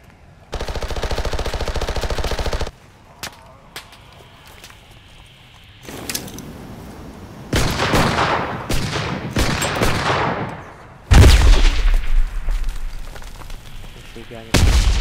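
Gunfire in the shooter game Cuisine Royale (CRSED F.O.A.D.): a sustained automatic burst, then scattered single shots, followed by louder rapid bursts and heavy blasts, sharp and close, with quieter gaps in between.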